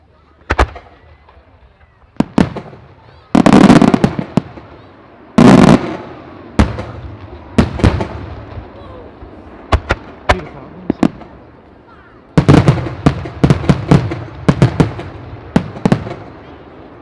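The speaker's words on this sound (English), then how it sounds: "Some seriously loud shells but going off there." Loud firework shells explode in a series of sharp, booming bangs at a firework festival in Abingdon, some spaced apart and others in rapid clusters, with crackling between bursts.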